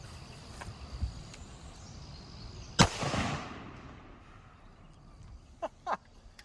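A single sharp gunshot from a long-barrelled .50 Action Express pistol firing a 300-grain Underwood hollow point into ballistics gel outdoors, one loud crack with a decaying echo, followed by a couple of fainter knocks against a quiet background.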